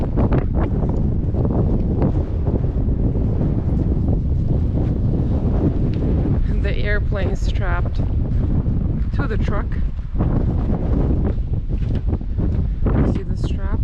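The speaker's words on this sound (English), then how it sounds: "Because it's 50-mile-an-hour gusts outside." Strong outdoor wind gusts of around fifty miles an hour buffet the microphone in a continuous loud roar, with people talking briefly through it.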